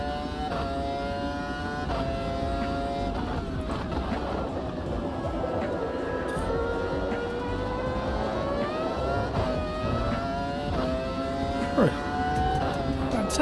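A racing car engine in a video game revs and accelerates through the gears, its rising and falling tones continuous throughout, with someone commentating over it.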